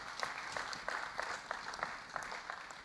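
A church congregation applauds with steady, rhythmic clapping that stays moderately loud and even throughout, with faint voices mixed in.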